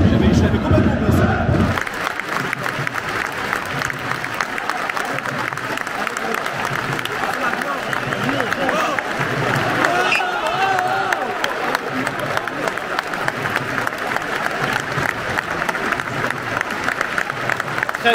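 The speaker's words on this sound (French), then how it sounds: "Très belle minute d'applaudissements ici au stade Océane pour Maxence" Football crowd at Stade Océane in Le Havre giving a minute of applause in tribute to a deceased supporter: sustained stadium-wide clapping and crowd roar, a louder burst at the start, continuing evenly for the whole stretch.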